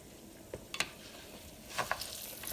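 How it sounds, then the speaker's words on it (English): Rice stirred in a hot pan, a steady faint sizzle with scattered light scrapes and clicks of the utensil, close, no one talking. "And then you start stirring with the right."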